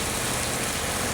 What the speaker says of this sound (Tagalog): Wala nang tigil yung ulan guys.